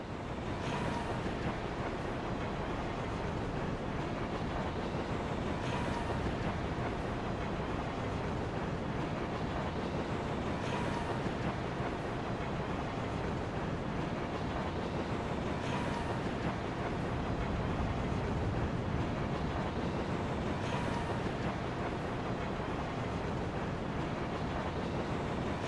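Underwater aquarium ambience inside the Deep Run Tram in World of Warcraft: a steady, dense rush of watery noise with low rumble, continuous and unchanging, with faint periodic swells and no voices.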